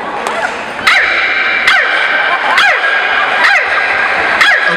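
A performer at a fraternity stepshow imitates a barking dog, giving sharp, repeated yips at a steady beat over a loud, noisy crowd.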